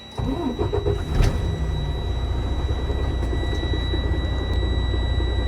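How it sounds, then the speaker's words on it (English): A truck engine cranks briefly and catches, then settles into a steady, loud, low idle rumble with a constant high whine running above it. "Tell the examiner I'm going to start my truck up."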